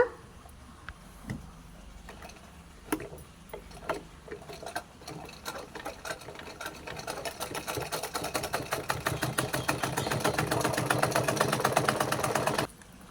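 A sewing machine stitching fabric runs close by, starting with a few slow separate stitches and then speeding into a fast steady mechanical rattle that stops abruptly.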